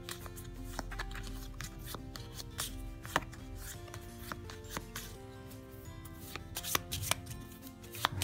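A deck of playing cards is shuffled, with rapid riffling snaps and crisp flicks running steadily and close at hand, with no voices.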